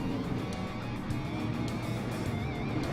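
Super late model race cars circling Lanier National Speedway, a steady, dense engine roar that holds loud and continuous throughout with no pauses.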